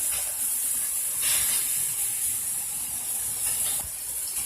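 Steak searing in a pan with garlic gives a steady, loud broadband hiss and sizzle that holds throughout with slight surges, and no voices are heard.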